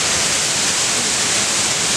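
Banyu Wana Amertha waterfall in Buleleng, North Bali, pouring in a loud, dense, constant roar of falling water that stays steady and close throughout, with no voices.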